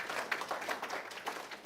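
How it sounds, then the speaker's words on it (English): Audience applause at a live church service, a short burst of many hands clapping at moderate distance, steady and dense throughout with no voices over it. "you can give a round of applause for that"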